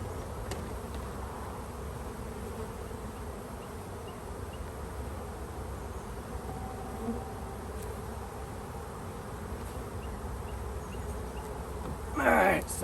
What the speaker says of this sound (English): That's a box of bees there.